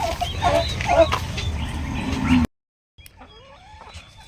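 Hybrid turkeys on a farm range give a run of close, loud gobbling and clucking calls for a couple of seconds, then a short silence before fainter, thinner bird calls follow.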